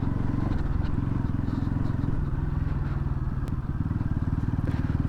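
Motorcycle riding on an off-road track, its engine a continuous loud, throbbing drone with steady rapid pulsing, close up throughout with no clear speech.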